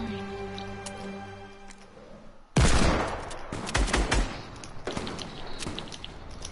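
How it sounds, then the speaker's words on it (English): Gunfire in a video game: after a quiet stretch with steady tonal hum, a sudden loud burst of rapid shots breaks in, followed by further scattered bursts and clatter at moderate distance. "Why is Landry shooting?"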